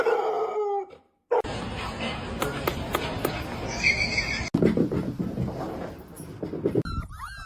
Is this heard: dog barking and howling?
yes